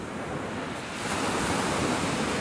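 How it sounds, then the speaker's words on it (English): Steady broadband roar of sea waves and blowing spray, loud and continuous, with wind rushing across the microphone throughout, on a coast while sea fishing. "We've got quite a bit of spray coming off the sea now."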